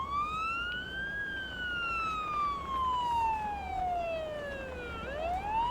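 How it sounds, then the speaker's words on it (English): Ambulance siren in a driving video game: one loud, continuous tone slowly rising, then falling and sweeping back up, over steady engine and road noise. "I'm putting it on the siren."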